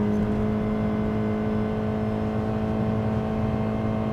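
Steady engine drone from a 2015 Honda Accord pulling at speed on a wet road, a constant low hum with a strong sustained tone and no voices.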